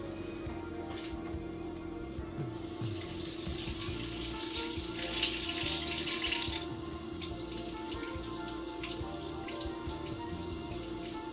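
Tap water runs steadily into a sink while deveined shrimp are rinsed for Yucatan shrimp tacos. The splash swells and brightens for a few seconds midway, then settles back under a low continuous hum.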